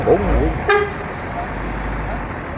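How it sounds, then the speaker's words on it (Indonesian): A short horn toot from a Sugeng Rahayu economy bus sounds once over idling engine and road noise, with voices nearby. "Klakson nih, baru aja datang nih."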